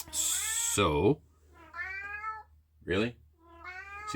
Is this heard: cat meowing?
yes